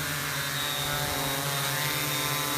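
Steady, loud droning buzz of an MP680Q drone in flight, a constant whirring hum with layered tonal bands that holds unchanged throughout, close to the microphone.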